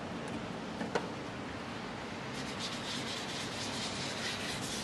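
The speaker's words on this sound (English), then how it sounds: "This is just a finer sanding block." A finer sanding block rubs over a horse's hoof after shoeing, a steady dry scraping at a moderate level, close by, with a faint tick near the start and a slightly brighter rasp in the latter half.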